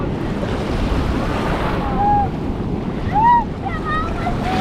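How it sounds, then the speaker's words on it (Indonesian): Ocean waves wash and rumble continuously near Nusa Dua, Bali, a broad, loud surf roar with wind buffeting the microphone and faint tonal squeaks above it. "emang ombaknya lebih gede loh"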